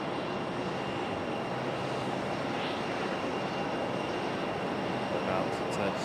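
A JetBlue Airbus A320 about to touch down at Raleigh-Durham gives a steady, somewhat distant jet engine rumble and whine that holds throughout, with a voice talking faintly over it.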